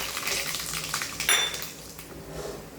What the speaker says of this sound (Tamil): கடுகு நல்லா பொரிஞ்ச பிறகு நம்ம வேர்க்கடலை சேர்த்துக்கலாம்.